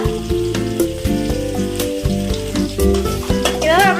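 Chicken with ginger paste and spring onion sizzles loudly in a pan as it is stirred, with repeated close scrapes and clanks over steady frying noise.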